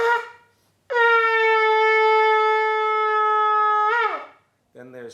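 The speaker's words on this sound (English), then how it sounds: "So maybe you can blow the shofar for us so we can get our viewers can hear what it sounds like." A shofar sounds one long, solid Tekiah blast, a loud steady horn tone held for about three seconds before it tapers off, preceded and followed by brief voices.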